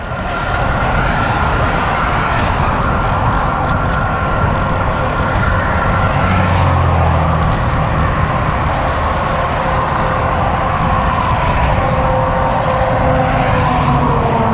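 Strong, cold wind buffets a bicycle rider crossing a bridge over Lake Houston, a steady loud roar of broadband rushing noise that persists throughout with no speech.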